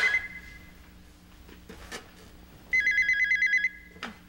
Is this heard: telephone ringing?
yes